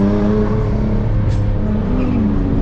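Car drifting at a JDM car meet, a loud, steady engine drone with sustained tire noise close by, holding throughout without a break.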